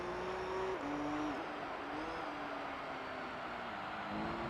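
Gran Turismo 3 all-wheel-drive prize car lapping a race track in the game, a continuous engine drone whose pitch shifts with gear changes and dips through corners, moderately loud and steady, with no talk.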